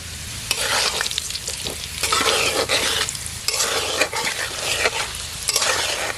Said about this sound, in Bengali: আলুটা আমার প্রায় ভাজা হয়ে গেছে এখন আমি সামান্য হলুদের গুঁড়ো দিয়ে নামিয়ে নেব